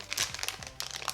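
Plastic piping bag crinkling as icing or cream is spooned in for a pumpkin birthday cake, a close series of soft rustles and crackles with no talk over it.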